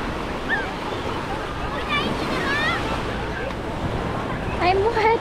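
Surf washing onto a busy public beach at Dinh Cau near the town center of Duong Dong, Phu Quoc, Vietnam, a steady loud rush under wind and nearby voices and chatter.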